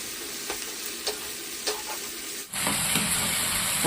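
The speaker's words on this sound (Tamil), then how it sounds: "தக்காளியும் கேரட்டையும் சேர்த்து நல்லா ஒரு 5 நிமிஷத்துக்கு நம்ம வதக்கிட்டோம்" Tomato and carrot sauté in a pan with a steady sizzle, broken by several soft spoon scrapes, then a louder, brighter frying hiss as the stirring continues.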